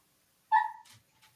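A single short dog yelp or whine close by, a sharp tonal cry that fades quickly, followed by a faint soft trailing sound.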